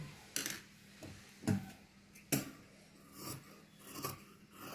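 Scissors cut blouse fabric along a curve, making a few soft, close snipping and rasping strokes spaced about a second apart over low background noise.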